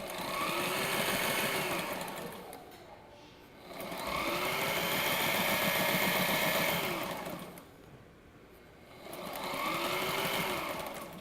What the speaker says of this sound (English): So I just reversed and kept sewing.